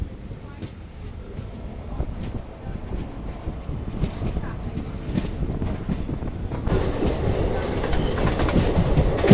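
A train from Rameswaram to Kanyakumari rolls steadily along the rails with a continuous rumbling, rattling clatter that grows louder toward the end, near the Pamban Bridge.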